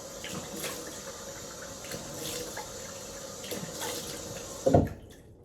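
Running tap water splashes steadily at close range while someone rinses off after shaving, ending in a brief louder splash before cutting off.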